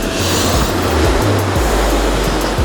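Strong, heavy sea waves surging at a rocky fishing spot where long-tailed blackfish are targeted, a loud continuous roar of surf with rumbling low swells filling the whole clip, no talking.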